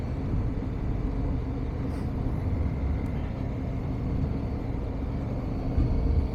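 A 2017 Honda Africa Twin CRF1000L motorcycle engine drones steadily in third gear while riding, a constant low rumble mixed with wind noise and no speech.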